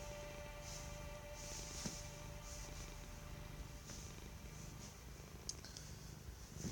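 Pet cat Macy purring softly and steadily up close, a continuous low rumble with faint background hum and no talking.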